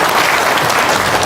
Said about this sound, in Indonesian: Yuk, tepuk tangan dong